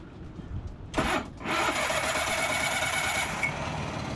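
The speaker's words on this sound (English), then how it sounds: "I'm going to click this button and the engine's going to start." A sailboat's inboard engine cranks and catches after a cable replacement, starting abruptly and then settling into a steady, close, broadband running noise.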